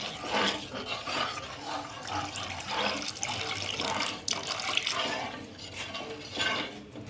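Water poured into a pan of yogurt fish curry as it cooks, a steady close splashing and running stream that lasts several seconds with slight swells, no talk.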